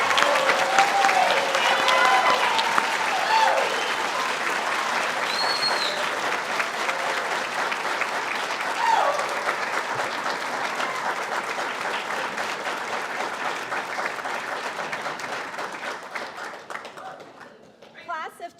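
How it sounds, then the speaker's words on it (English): Sustained audience applause at a pharmacy school white coat ceremony, a broad continuous clapping roar from a large crowd that holds steady for many seconds, then fades out near the end. "Please give a round of applause."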